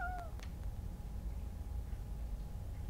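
Short meow from a cat in the video game Stray, one clear rising-then-falling call right at the start, followed by a quiet low rumble of game ambience.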